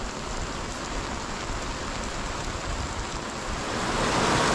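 Rain falls steadily on a boat anchored off Ubatuba, dripping from the canvas into the cockpit, a dense, even hiss of drops and splashes that swells slightly toward the end.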